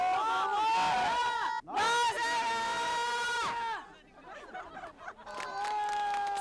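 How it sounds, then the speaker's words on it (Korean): Visitors gathered at former Korean president Roh Moo-hyun's private home chant his name in loud unison bursts, with a stretch of mixed crowd chatter between chants before another chant starts. "사저를 보러 온 방문객들이 노 전 대통령을 연호하는 진풍경도 벌어졌습니다"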